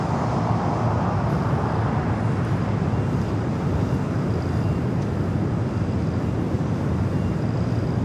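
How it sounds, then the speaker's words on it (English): An Air Canada Boeing 737 MAX 8 takes off from the south side of LAX, a steady broadband jet roar heard from a distance, constant and rushing throughout with no talk. "Next takeoff here on the south side, Air Canada Flight 792 heading to Toronto."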